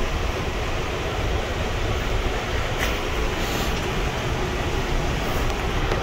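Tractor pulling a hay rake across a pivot-irrigated field in Nevada, a loud, steady engine drone and rumble that continues unbroken and close by, with no talking.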